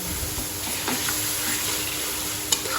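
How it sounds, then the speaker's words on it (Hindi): Boiled mutton is stirred into a hot pan for bhindi gosht, with a continuous close sizzle and the wet scraping of stirring, plus a short sharp knock near the end. "और अब हम इसी के साथ इसमें गोश्त डालेंगे, जो गोश्त मैंने बॉईल करके रखा था। बिस्मिल्लाहिर्रहमानिर्रहीम। इसको मिक्स करेंगे हम।"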